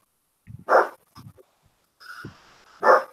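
A dog barks a few times close by, short sharp woofs with a brief whine between them, separated by moments of quiet.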